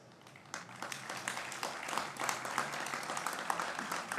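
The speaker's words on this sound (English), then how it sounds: "I applaud them loudly, fully, and completely" An audience at a presidential reception at the Madatech museum breaks into applause, starting faint and swelling into a steady, moderately distant wash of clapping.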